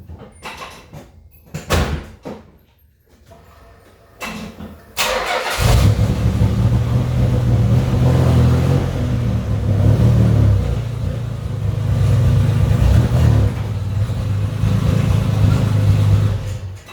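A Nissan Z31 car is readied with a few door and body clunks, then its engine starts and runs at a steady, loud idle as it drives up onto scales.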